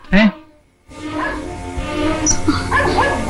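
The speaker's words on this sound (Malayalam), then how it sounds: "എന്താ പട്ടി വല്ലാതെ കുരയ്ക്കുന്നു." A dog gives a short, sharp yelping bark at the start; after a brief pause, people talk over a low background for the rest.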